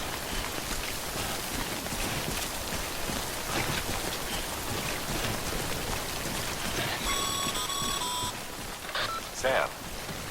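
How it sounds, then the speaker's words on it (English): Timefall rain in the video game Death Stranding falls as a steady, dense patter, with a short run of electronic beeps and a few clicks partway through. "Don't stay out in the rain any longer than you have to."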